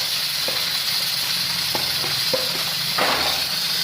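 Ginger and tomatoes hit hot oil for Sialkoti degi chana, setting off a loud, steady close sizzle with a few light knocks of the spoon against the pan.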